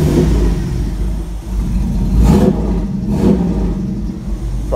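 A boxy Chevy car engine rumbles loudly up close, revving up in a couple of uneven pushes on the throttle with a slightly sputtering, rough tone.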